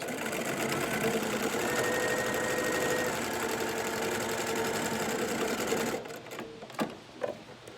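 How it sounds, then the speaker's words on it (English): A sewing machine stitches the opening of a fabric face mask closed, running in a steady rapid whir for about six seconds before stopping, followed by a few light handling clicks. "We're going to do a real quick, just little sew along that opening to sew it closed."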